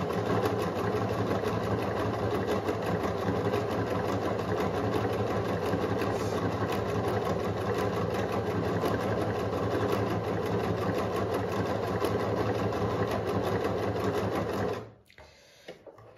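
A Pfaff select 2.0 sewing machine runs steadily at close range, a continuous mechanical whir with rapid needle clatter lasting about fifteen seconds before stopping abruptly.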